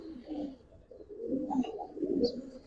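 Pigeons coo in a loft or market among Giribaz, silver, Sabchila, army and coloured breeds, with low murmuring coos repeating steadily and a couple of brief higher chirps near the end.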